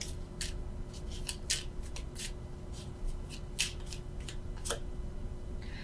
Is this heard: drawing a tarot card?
yes